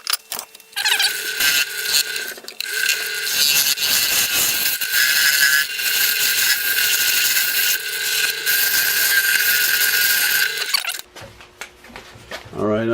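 A turned spindle shaft being smoothed on a lathe: a loud, steady whirring hum of the spinning machine with scraping and rasping of the tool on the wood, starting abruptly and cutting off near the end.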